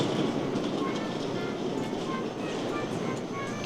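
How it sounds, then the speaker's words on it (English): A narrow-gauge train in Japan rumbles past up close, loud and continuous, wheels clattering rhythmically on the rails with faint squeals. "here it is. It is an obviously narrow train."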